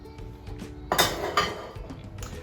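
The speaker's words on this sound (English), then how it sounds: "We're then going to mix our courgette in." Grated courgette being mixed into flour and baking powder in a bowl, giving a couple of close clinks and scrapes of a utensil against the bowl, with no talk.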